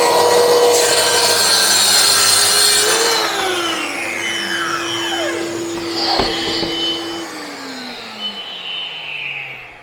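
Mafell MT55 plunge saw fitted with a scoring blade cutting through wood, a loud steady motor whine and rasping cut that fades and shifts pitch as the blade runs down, with no talking.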